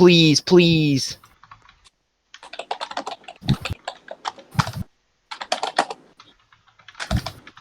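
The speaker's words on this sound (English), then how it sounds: "Just keep on typing it." Computer keyboard typing in short irregular bursts of clicks, fairly close, with a brief stretch of talk at the start and quiet gaps between bursts.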